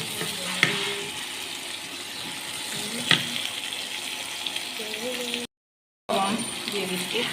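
Prawns frying with chopped ginger in hot oil, a steady sizzle with occasional stirring clinks, under someone speaking, and a brief gap of silence near the end.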